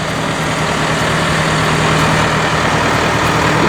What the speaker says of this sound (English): You can see the gate go up and down, see the baler spin.